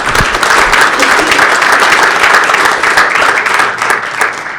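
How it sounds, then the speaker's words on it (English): An audience applauds for Kate Slade from Ireland at a chiropractic panel event, a steady wash of many hands clapping, loud and continuous for several seconds before fading slightly. "Give her a round of applause."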